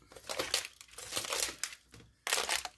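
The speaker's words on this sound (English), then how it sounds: "let me snip these" Audi A4 B5 1.8T quattro ICM wiring harness being handled and snipped, with close crinkling, crunching bursts in three bunches and no talk over them.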